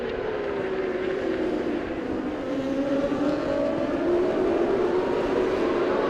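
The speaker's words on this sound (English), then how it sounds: "As they come through at the end of lap number 1 of 12, the screaming engines have Tanat from Kazma, from Apiwat, from Adi" Racing 600cc motorcycles in an Asia Road Racing Championship SS600 race scream past at high revs, a dense rising and shifting engine whine from several bikes that builds steadily louder across the stretch.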